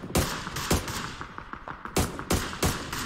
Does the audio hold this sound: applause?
no